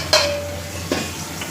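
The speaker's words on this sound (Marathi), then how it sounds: "बघा असं हलवत राहायचं त्याला बरोबर फुलता म्हणते." Puris for pani puri fry in hot oil as they are stirred, a faint sizzle under two sharp, ringing clinks of a metal utensil against the pan.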